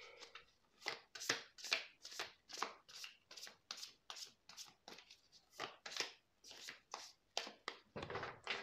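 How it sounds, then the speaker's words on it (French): Tarot cards being shuffled by hand, a rapid series of crisp riffling swishes repeating in a steady rhythm, close and fairly quiet. "on va continuer le tirage en prenant des cartes du tarot"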